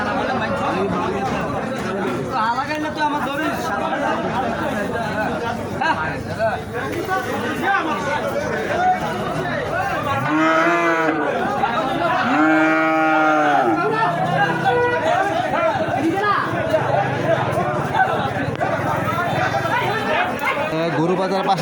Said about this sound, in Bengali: প্রান্তিক একটা গ্রামীণ গরু বাজার বাজার পরিবেশটা অনেক সুন্দর ছোটোখাটো পরিসরে অনেক গরু আছে